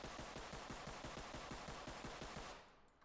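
A Ready or Not secondary weapon emptying a full magazine in quick, evenly spaced shots, about a dozen rounds fired in a steady rhythm before cutting off into near silence.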